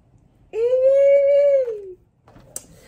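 A pet dog gives a single sustained, tonal howl lasting over a second, close and clear, followed by faint rustling.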